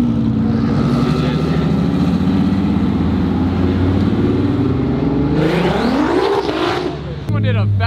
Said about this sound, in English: Someone did a battle burnout down over there